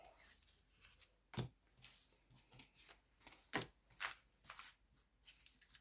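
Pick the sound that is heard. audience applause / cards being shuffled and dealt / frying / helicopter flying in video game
cards being shuffled and dealt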